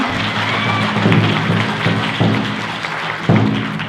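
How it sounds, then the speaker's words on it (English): An audience claps for the Hill Creek drum group at a Ute powwow, a moderate spread of applause with a few louder low thumps breaking through. "Can you get a round of applause for them?"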